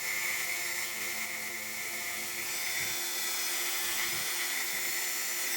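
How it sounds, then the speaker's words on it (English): Lock pin spinning in a chuck while being sanded with 600 grit paper, a steady high whirring hiss with a faint grinding edge, continuous and close, no voices. "I'll go ahead and use some 600 grit, so it's really nice and smooth."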